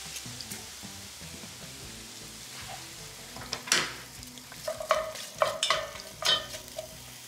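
Garlic sizzles and fries in a pot for beef bourguignon, with steady quiet frying, stirring scrapes and a few sharp clinks of a utensil against the pot, growing busier toward the end.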